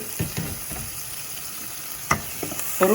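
Onions and tomatoes fry in a pan for potato rasam while being stirred, with soft scraping strokes and clinks over a steady low sizzle, a sharper clatter near the end.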